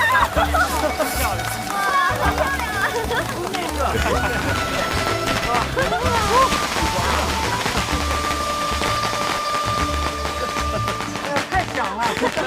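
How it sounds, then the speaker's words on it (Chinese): Coiled dragon firecrackers go off at a festive new-year celebration in a period drama, a dense, continuous rattle of rapid bangs with voices and background sound mixed over it. "爆竹迎新破晦气"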